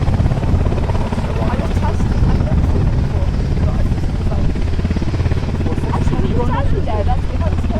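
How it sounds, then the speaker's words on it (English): A Coast Guard helicopter at Caernarfon Airport, its rotor thumping steadily and loud throughout, close by with a constant engine whine; no talk is heard over it. "the Coast Guard helicopter"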